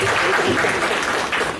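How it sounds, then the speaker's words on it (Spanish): An audience at an urban studies conference panel applauds a speaker, a brief, loud and dense burst of clapping filling the room. "un aplauso a Mariana Alegre por su intervención."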